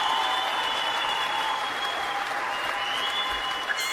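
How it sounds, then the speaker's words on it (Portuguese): A small audience at a podcast recording claps steadily for a few seconds, a dense, even patter of hands fairly close, tapering slightly at the end. "Ai, 13 palmas"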